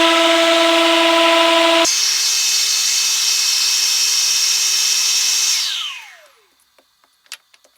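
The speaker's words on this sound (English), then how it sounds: "And some more sanding to get it up to 180 grit." A power sander works wood up to 180 grit for a shoe-holding bench: a loud, steady whine that shifts pitch, then spins down to silence, followed by a few soft clicks.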